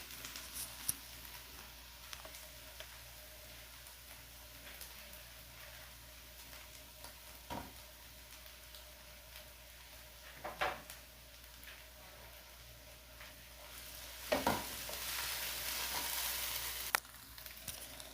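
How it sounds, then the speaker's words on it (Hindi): Onions sizzle softly in a pan while being stirred as they turn light brown for a mutton chop masala, faint steady frying with occasional scraping clicks and a brief louder stir near the end. "इस ऑनियन को हम लाइट ब्राउन कर लेंगे।"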